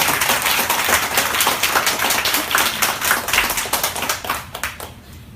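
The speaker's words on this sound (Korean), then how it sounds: "우리 세 자매에게 큰 박수로 한번 부탁드리겠습니다" A church congregation claps for three sisters during a Sunday service, a dense burst of many hands applauding steadily and then tapering off toward the end.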